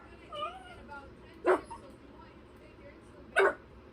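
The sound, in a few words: dog whimpering and barking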